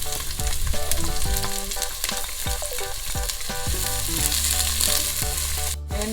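Garlic and onion sizzle and fry steadily in a hot pan while cooking spaghetti sauce, with occasional scrapes and clinks of a utensil stirring, continuous and close with no voices.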